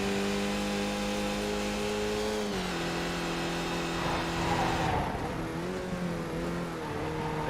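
Race car engine held at full throttle through a straight in a racing video game at Summit Point, a loud, steady high-revving drone with a brief gear-change dip partway through.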